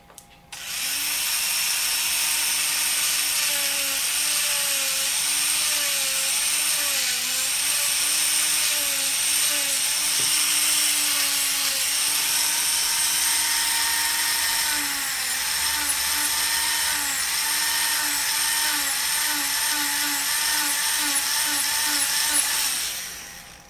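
An electric nail file sander shaping resin nail edges gives a steady, close, high-pitched whir that wavers in pitch as pressure changes and runs without a break.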